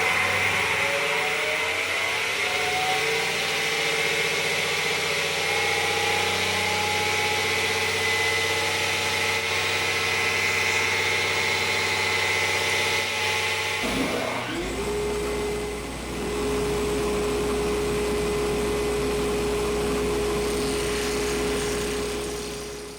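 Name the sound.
machine started up and run to about 2,000 RPM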